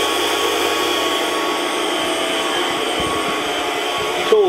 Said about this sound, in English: This is a 3mm tool just to profile the very fine octagon ring, internal ring spanner shape.